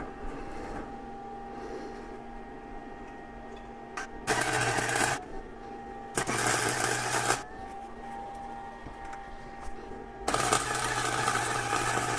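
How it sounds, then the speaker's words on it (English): Three short bursts of spot welding crackle loudly on a Harbor Freight motorcycle dolly being modified to fit a Harley Davidson, each lasting about a second, over a steady background hum of shop equipment. "Let's get some spot welds on that."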